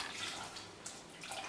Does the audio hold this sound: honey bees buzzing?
no